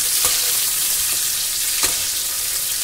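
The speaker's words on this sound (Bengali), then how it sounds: "এর মধ্যে মিশিয়ে দিচ্ছি কাজু আর কিশমিশ। ভালো করে নাড়াচাড়া করে ভেজে নেব।" Cashews and raisins frying in hot ghee with whole spices such as bay leaves give a steady close sizzle, with a few sharp scrapes where they are stirred around the pan.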